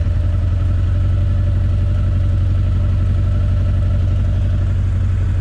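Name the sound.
Honda CB 900 motorcycle engine revving up from idle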